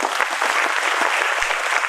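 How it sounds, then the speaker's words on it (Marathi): Loud, dense applause from a parents' meeting audience honouring successful students at a coaching-class event, steady and continuous throughout with no voices on top. "खऱ्या अर्थानं आज यशस्वी विद्यार्थ्यासाठी सर्वांनी जोरात टाळ्या वाजवा."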